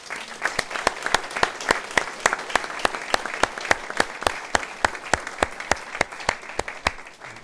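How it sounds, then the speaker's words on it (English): A Veterans Day round of applause for Bucky Holmes at a speech in Cleveland, Tennessee: a small crowd clapping steadily and loudly, with a few distinct claps standing out, lasting several seconds without a pause. "How about a Veterans Day round of applause for Bucky Holmes right there?"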